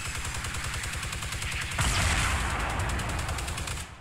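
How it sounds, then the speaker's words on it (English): Fortnite battle royale gunfire sounds as a fast, sustained automatic stream of shots at moderate loudness, getting heavier midway, then stopping just before the end. "I just heard shots over to the right."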